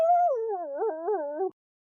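A voice imitates a badger's howl, a single rising and wavering yowl lasting about a second and a half, then it cuts off into silence.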